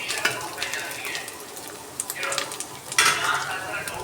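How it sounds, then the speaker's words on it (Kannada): A dry paste of coconut, garlic and ginger fries on low flame in a pan while being stirred for Pongal. There is a soft, steady sizzle with intermittent scraping and clinks of the spoon against the pan. "ಇವಾಗ ನಾನು ಮಾಡಿರೋ ಡ್ರೈ ಪೇಸ್ಟು, ಅದು ಕೊಬ್ಬರಿ ಮತ್ತು ಬೆಳ್ಳುಳ್ಳಿ ಶುಂಠಿ, ಅದನ್ನು ಇವಾಗ ಹಾಕ್ತಾಯಿದ್ದೀನಿ"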